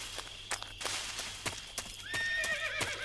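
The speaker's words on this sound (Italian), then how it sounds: "Un cavallo?" A horse in the video game Metal Gear Solid 3 snorts, then gives a clear descending whinny near the end, amid repeated sharp clip-clop hoof knocks and a faint steady background tone.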